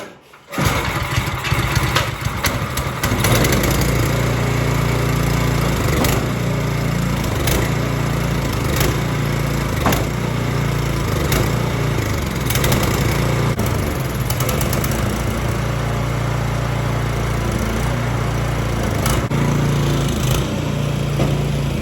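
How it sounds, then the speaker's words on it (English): An Ariens Snow Tech snowblower engine, its carburetor freshly cleaned, starts on choke and then runs steadily, loud and close, a constant buzzing drone holding for about twenty seconds without talk. "The snowblower is up and running."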